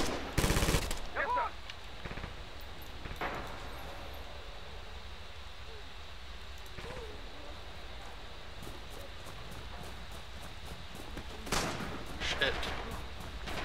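Bursts of machine gun fire and distant gunshots sound in the Red Orchestra 2 video game battle, loudest near the start and again toward the end, with a player talking over the combat noise.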